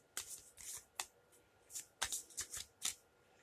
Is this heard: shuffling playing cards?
yes